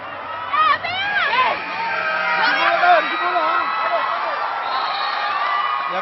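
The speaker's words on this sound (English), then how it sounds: "The crowd appreciating" A volleyball arena crowd cheers and chatters steadily, with whoops rising over a continuous murmur of many voices.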